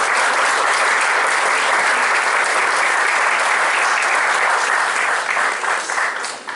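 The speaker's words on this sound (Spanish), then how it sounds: "para que les demos un aplauso inicial" An audience at a university conference claps for the students, a dense, steady burst of applause lasting several seconds before it begins to thin out.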